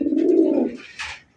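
A single male pigeon, a large red bird, gives one close, loud, low throaty coo that swells and fades, followed by a brief softer rustle.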